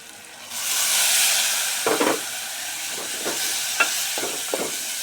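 Soaked moong dal tipped into hot oil in a frying pan sets off a loud hiss and sizzle that settles into steady frying, with a few scraping stirs of the spoon.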